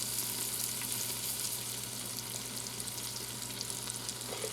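Beef steak browns in oil inside an Instant Pot, a steady, close, continuous sizzle and crackle with faint stirring and no talk.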